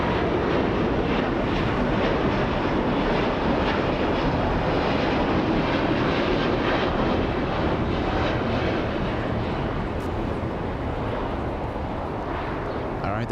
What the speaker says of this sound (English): There goes Virgin Atlantic flying all the way to London Heathrow, an Airbus A380 1000.